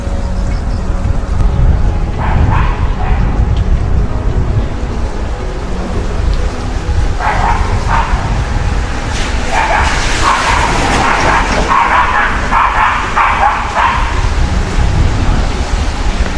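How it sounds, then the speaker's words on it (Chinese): Two dogs bark at each other on a rainy Beijing street. The barks come in scattered clusters, mostly later on, under a steady wash of rain and low rumbling that fills the whole stretch. "前面有两只狗子， 相互不服气。"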